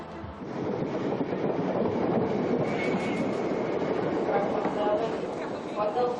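A passenger train rumbles steadily along the track at a South London station around Clapham Junction, a continuous loud roar with faint metallic squeals near the end.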